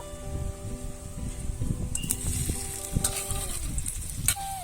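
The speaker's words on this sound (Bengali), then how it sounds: "আলু দিয়ে দিলাম গরম তেলে।" Boiled potatoes sizzling in hot oil in a pan for a potato curry, a steady frying hiss with light clinks of a spoon or pan, no talk.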